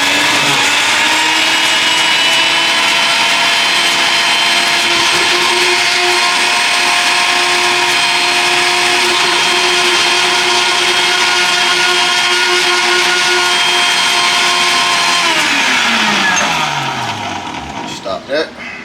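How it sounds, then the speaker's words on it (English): A blender purées sweet potato with a loud, continuous motor whine that holds steady for many seconds, then winds down in pitch as it is switched off near the end. "Then put it in the blender."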